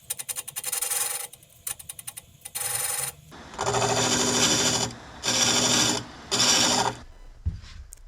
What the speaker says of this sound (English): Running the rings through the drum sander, just make sure they're all an even thickness.